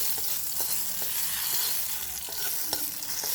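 A steady, hissing sizzle of hot tempering oil poured into a brinjal curry, continuous and close, with a few faint clicks and no voices.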